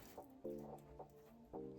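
Chickens cluck close by, four or five short throaty calls in an uneven rhythm against a quiet background.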